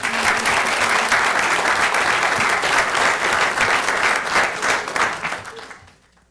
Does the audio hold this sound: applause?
yes